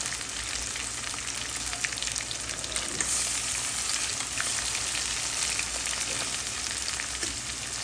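Pieces of oxtail fry in hot oil with a dense, steady sizzle and crackle that carries on without a break, close up and with no voices.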